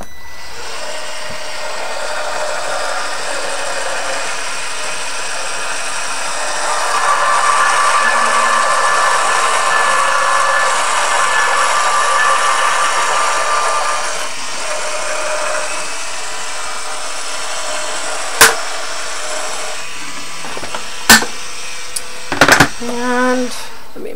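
An eBosser electric die-cutting machine runs a CottageCutz die and cardstock through with a steady motor hum that swells midway, followed by a few sharp clicks and handling knocks near the end.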